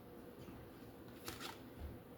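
A tarot card deck being shuffled, with soft, brushing riffles of cards running steadily close by and a slightly fuller flutter of cards near the middle, with no voices.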